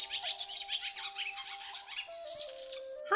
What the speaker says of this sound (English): the swallows have built another nest in the eave of our house